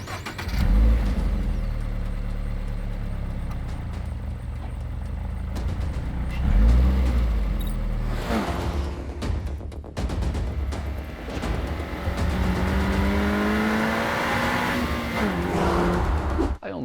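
A 2024 Subaru BRZ or Toyota GR86 sports car engine revs loudly and close, with repeated throttle blips and rising, sweeping pitch as it accelerates, continuous throughout with no talking.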